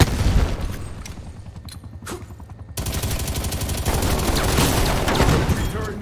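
Sentry turret gunfire in the Call of Duty Black Ops Cold War video game during a team deathmatch, loud rapid automatic shots with booms, starting in a burst, briefly thinning, then a dense sustained barrage to the end.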